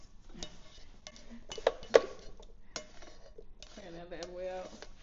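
Pots and utensils clank and knock as a pan is handled while cooking mashed potatoes, with a few sharp metallic hits among softer scrapes, and people talk between them.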